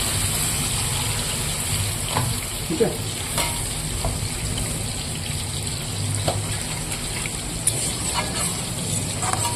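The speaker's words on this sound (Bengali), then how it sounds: "এবার আমি এখানে পরিমাণ মতো জল দিয়ে দেবো" Water poured into a cooking pan of sizzling, fried-down masala for a fish curry, producing a steady hiss and gush with occasional stirring scrapes, loud and close, with no talking.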